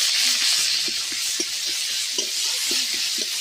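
A medium chopped onion sizzles in hot oil in a pan for a fish curry, with a steady, close frying hiss throughout and soft, irregular clicks and scrapes as it is stirred.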